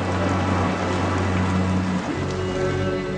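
Steady rain falling in a Brazilian TV drama scene, a dense even hiss of drops throughout, with a low hum shifting in pitch partway through.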